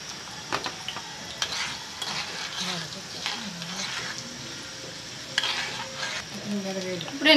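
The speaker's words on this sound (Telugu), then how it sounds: "పోపులని పోపు దినుసులు వేసుకున్నాము" Fenugreek seeds and other tempering spices sizzle and crackle in hot oil in a pan, with a spoon stirring through them; a steady frying hiss runs throughout with scattered pops and a few scraping sounds, and no voices.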